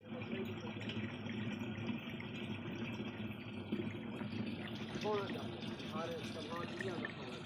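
Water gushes steadily while two containers are filled outdoors, a continuous rushing flow with voices talking over it throughout.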